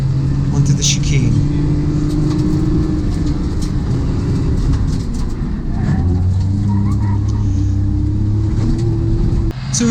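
A rally car at a Teesside event works through a chicane, its engine droning and rising and falling near at hand, with tones shifting through gear changes while someone talks over it throughout.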